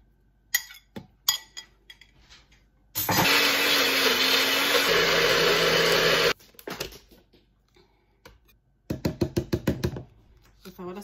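A kitchen blender grinds guava for ice cream in one steady, loud burst of about three seconds, with clinks and knocks of glass before and after and short bursts of noise near the end.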